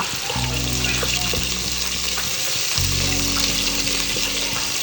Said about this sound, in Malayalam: അതേസമയം തന്നെ വേറൊരു പാത്രത്തിൽ ചൂടായതിനു ശേഷം വെളുത്തുള്ളിയും ഇഞ്ചിയും നന്നായി വാട്ടിയെടുക്കുക